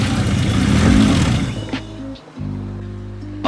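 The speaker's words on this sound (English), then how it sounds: "Now it's idling weird." A BMW E30 car engine runs loud and close, then its note drops and stumbles into an uneven, lumpy idle that settles at a lower rumble.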